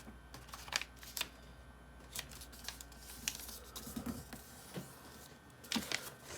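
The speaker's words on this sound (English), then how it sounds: "open this up and squash fold this" Sheets of paper being opened out and squash folded while shaping an origami archer, with soft crinkles and sharp creasing snaps in irregular bursts, close and fairly quiet.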